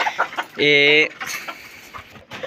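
A white hen gives a short, loud squawking cluck, standing out briefly amid a soft scatter of background noise and faint farmyard sounds.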